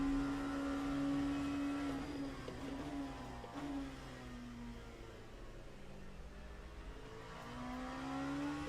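A GTE race car's engine in a Daytona racing game, a continuous howl rising and falling with revs, loud at first, easing off mid-stretch, then climbing again near the end; no voices.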